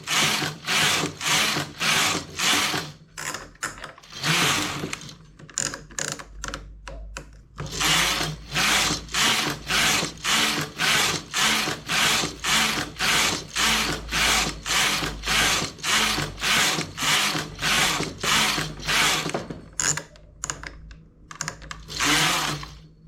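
Knitting machine carriage knitting rows for pleats, a loud rhythmic series of clattering passes repeating steadily back and forth with a few short pauses, close and alone.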